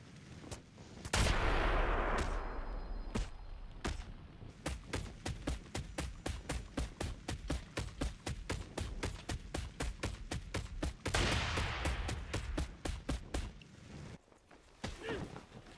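Video game combat with rapid bursts of gunfire, repeated sharp shots in quick rhythmic succession, plus heavier blasts near the start and around the middle that fit grenade explosions, all loud and close.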